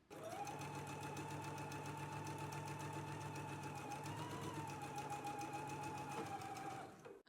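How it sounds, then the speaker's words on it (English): A sewing machine runs steadily stitching a pocket seam at a quarter-inch allowance, a close, even whirring hum that continues without pause for about seven seconds and cuts off at the end. "we're going to stitch right down the pocket using a 1/4 inch seam allowance"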